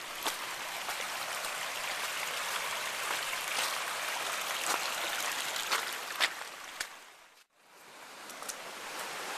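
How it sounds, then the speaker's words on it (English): Swollen stream in Mission Trails Park after four days of rain, rushing steadily with a broad, close hiss of flowing water and small splashes, briefly dipping near the end before resuming. "We'll go see how the stream's running"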